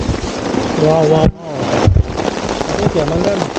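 Heavy rain pours down during a mountain hike on Mount Ungaran via the Mawar route, a dense, steady hiss close to the microphone with gusty buffeting and people talking over it.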